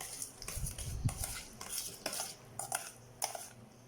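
Tofu sisig stirred in a pan, with a utensil scraping and clinking against metal in quick irregular strokes over a faint sizzle, close but quiet, with no talk.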